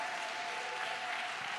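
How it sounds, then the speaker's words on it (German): Steady, faint applause from a church congregation after a testimony, a brief even wash of clapping with no voices over it. "gebt ihm einen großen Applaus."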